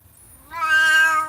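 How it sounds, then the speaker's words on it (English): A cat cries out loudly while its back is scrubbed, a single drawn-out, rising meow that swells after a quiet start and holds briefly, close and clear. "Like if I scrub his back, usually he'll cry and make some noise."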